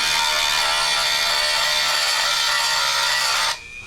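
A Dremel rotary tool sands down the surface of a model discus-launch glider with a loud, steady high-pitched whine, close up, that stops abruptly near the end.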